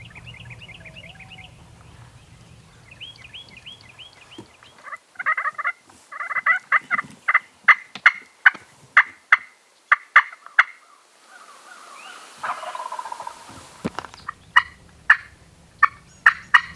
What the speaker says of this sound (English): I believe there's 2 toms, but only one is gobbling now